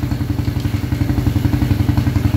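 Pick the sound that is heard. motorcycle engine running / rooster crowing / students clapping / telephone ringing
motorcycle engine running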